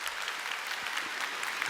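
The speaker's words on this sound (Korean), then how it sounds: "여기에서 박수 한번 보내주세요" An audience at a one-day product seminar claps briefly, a steady patter of applause from a modest indoor crowd.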